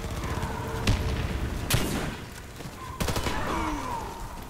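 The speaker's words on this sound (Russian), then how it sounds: "Кидаю гранату!" Grenade blasts and gunfire in the online shooter Warface, with several sharp booming bursts spread across a noisy battle backdrop, moderately far and reverberant.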